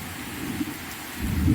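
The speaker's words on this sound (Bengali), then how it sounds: "যা দারুণ বৃষ্টি, দারুণ বিদ্যুৎ চমকাচ্ছে, বাজ করছে আর বৃষ্টি হচ্ছে" Heavy rain during a thunderstorm with lightning, a steady rain hiss under a low thunder rumble that swells louder toward the end.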